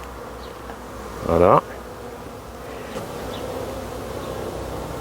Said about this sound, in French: c'est cet essaim là qui a essaimé, qui a sur-essaimé